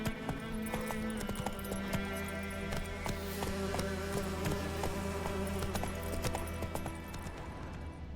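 Steady clip-clop of Roach the horse's hooves in Witcher 3, a continuous rhythmic trot with a droning insect-like buzz and ambient game sounds throughout.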